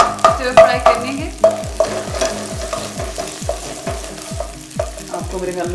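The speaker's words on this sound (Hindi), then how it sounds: "सौते करने के बाद लहसुन और अदरक को हम लोगों ने इसमें डाल दिया है, मशरूम्स जिनको इनको भी हम सौते करेंगे" Mushrooms sautéing with garlic and ginger in a pan make a close, busy crackle, broken up by rhythmic scraping and clinking as a utensil stirs them against the pan.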